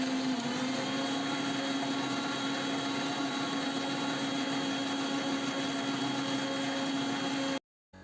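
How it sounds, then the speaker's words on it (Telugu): A mixer grinder whirs continuously as it blends mango and milk into a milkshake, a loud, steady motor drone with a constant pitch that cuts off abruptly near the end. "పాలు వేసి మళ్ళీ ఒకసారి మిక్సీ చేసుకుని మొత్తం కలిపి మిక్సీ చేయాలన్నమాట"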